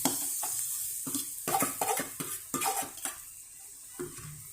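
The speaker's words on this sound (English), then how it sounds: "So now mix the crushed potato into the wok like how we are mixing" Crushed potatoes worked into fried masala in a wok with a metal turner: a run of close, clattering scrapes and knocks against the pan in uneven strokes, with no voices.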